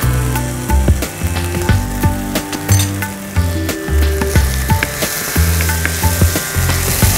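Potatoes and turmeric sautéing in a pan, a soft continuous sizzle with repeated scraping and stirring knocks from a utensil, close and fairly loud, no talking.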